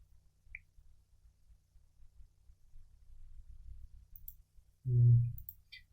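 A computer mouse gives a few faint, sparse clicks in a quiet room, followed by a brief louder thump near the end.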